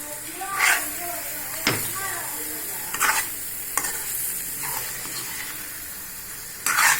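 Eggs sizzle and spit in a pan of masala gravy for an Indian egg curry, a continuous close frying hiss broken by several sharp scraping stirs of a spoon against the pan, with a voice talking intermittently.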